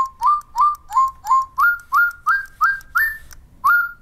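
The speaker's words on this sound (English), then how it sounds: "Use the whistle to also whistle at your bird to launch your bird into song." A Spin Master DigiBirds electronic toy bird in a Swing & See-Saw Birdhouse sings a clear, close series of about ten evenly spaced, rising whistled chirps, alone and loud.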